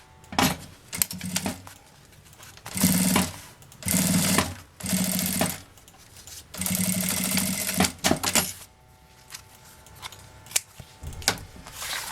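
A domestic sewing machine stitching a fabric binding strip, running in several bursts of rapid mechanical whirring separated by short pauses and handling clicks, loud and close with no talking.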